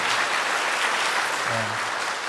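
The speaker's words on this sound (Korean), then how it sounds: "우리 감사의 박수와 또 하나님께 찬양의 박수를 드렸으면 좋겠습니다" Korean church congregation clapping in thanks and praise, a dense, even burst of applause from many people lasting about two seconds, with a brief low voice near the end.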